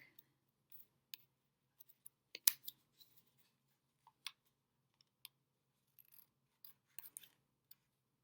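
A blade cutting back the inside edge of a cardboard frame, heard as sparse, faint, close clicks and short scraping snips spread irregularly across a very quiet background.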